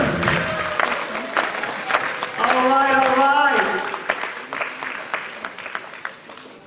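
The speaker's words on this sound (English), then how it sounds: "Huge round of applause for our CEO" Conference audience applauding their company's CEO at a 2019 Dagcoin event in Estonia, a steady wash of clapping and crowd noise under an announcer's voice and some cheering.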